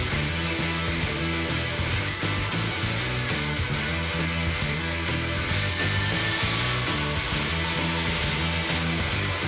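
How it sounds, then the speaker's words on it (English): Grinding the edges of a steel sword blade before heat treatment, a steady loud abrasive power-tool whine with continuous scraping and rubbing that runs unbroken throughout, with no voices. "Now we grind the edges on the blade to prep it for heat treating."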